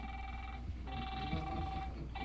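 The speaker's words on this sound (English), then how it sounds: "That's Derek's phone" A phone rings in repeated electronic bursts with short pauses between them, moderately faint against a quiet room background.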